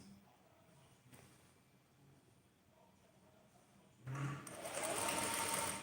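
A sewing machine stitching a pocket on men's trousers starts up after quiet handling noises, running as a loud, fast, steady mechanical whir close by.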